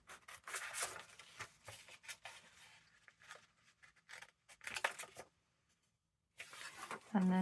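Scissors snip through old vintage book paper to cut a small flap, giving a run of soft crisp cuts and rubbing paper rustles close by, broken by short pauses with a quiet stretch near the end.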